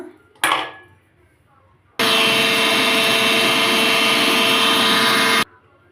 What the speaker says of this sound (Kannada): ಈಗ ಜಾರ್ಗೆ ಹಾಕ್ಕೊಂಡು ಪೌಡ್ರ್ ಮಾಡ್ಕೊಳ್ಳೋಣ